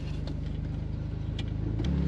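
A Jeep rolls along the Naches Trail in Washington, its engine a steady close rumble heard from inside the cab with no talking.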